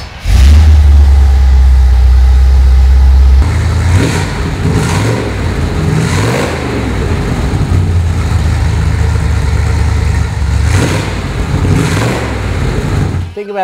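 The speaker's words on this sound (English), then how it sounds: "How about I start it for you so you can hear what it sounds like" A 1974 Chevrolet Corvette Stingray engine cranks and catches, then rumbles at a steady idle with a few blips of revving, loud and close throughout.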